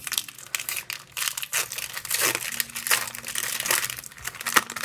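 Crinkling and tearing of a Pokémon booster pack wrapper being opened up close, a continuous crisp plastic rustle with sharper rips, no talking.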